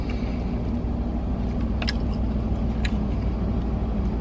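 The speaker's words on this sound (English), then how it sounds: "So there's cars to my left right now that are stopped because of the red light." Idling and slowly moving cars wait at a red light beside a street-parked car, giving a constant low traffic rumble with a few faint higher clicks and clatters over it, and no talking.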